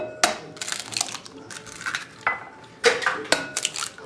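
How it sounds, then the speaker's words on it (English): Several eggs cracked against a bowl in a home kitchen, sharp taps and crackling shell breaks followed by clinks and light clatter, close and fairly crisp with no talk. "Next, we're gonna crack some eggs."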